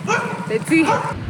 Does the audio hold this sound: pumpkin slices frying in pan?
no